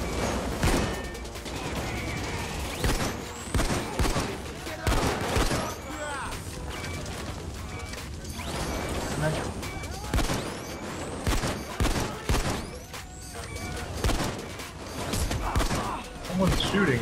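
Gunfire in the video game Payday 2, with dense bursts of shotgun and automatic shots crackling and booming amid chaotic combat noise, continuous and loud, while a player's voice talks over it.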